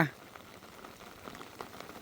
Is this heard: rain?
yes